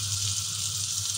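Steady hiss of shrimps frying in olive oil with a little butter in a pan, a constant close sizzle with no talking.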